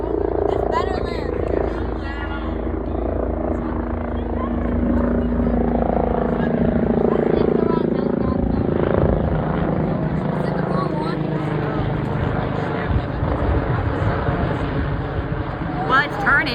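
A helicopter passes over a school on the last day of classes, a loud droning rotor and engine roar that holds steady then shifts as it turns, while people talk nearby throughout.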